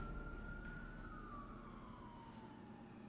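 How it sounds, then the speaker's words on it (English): In the video game Final Fantasy 16, a single siren wails faintly and slides slowly downward in pitch over a low rumbling ambient backdrop. "There was a siren right on cue."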